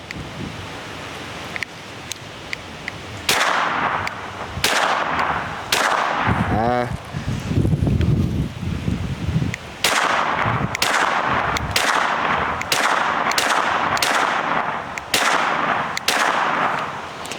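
Pistol caliber carbines fire at an outdoor shooting range, loud sharp reports coming one after another in a steady series, with some wind noise and a brief pause as a voice speaks.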